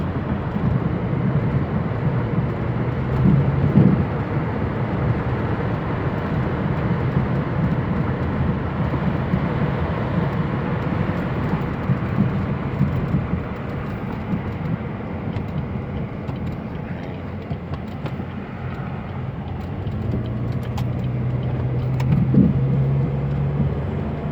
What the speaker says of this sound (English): we're back driving down the road in Mexico